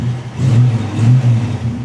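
An old California car's engine idles and revs steadily, a low rumble that swells twice and stays up close and fairly loud throughout with no voices over it.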